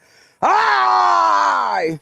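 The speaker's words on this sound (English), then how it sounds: "Yeah, I get out here and scream sometimes." A single long scream from a man, sudden and loud, held steady for about a second and a half before trailing off, close and alone.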